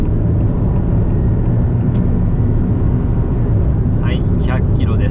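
A 2023 Honda N-BOX with a naturally aspirated engine accelerates hard toward 100 km/h, making a loud, sustained engine drone and road noise inside the cabin. A person speaks briefly near the end.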